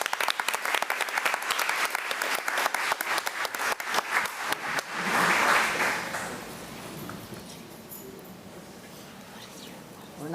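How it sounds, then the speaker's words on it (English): Audience applause at a school district board meeting, dense steady clapping for about five seconds that swells, then fades into a softer murmur of crowd noise. "let's give Rocco, Vera, and Hayden Chaplin another round of applause."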